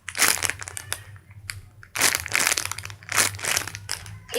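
A hard squishy toy shaped like a replica donut is squeezed and handled up close. Several crunchy, crinkling squeezes come in bursts with short pauses between them, and no one talks.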